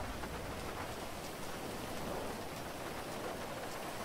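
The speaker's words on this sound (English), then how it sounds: "Get me out of the rain as well." Rain falls steadily in the GTA Online game world, a broad, even wash of downpour with a faint suggestion of distant thunder, heard alone without speech.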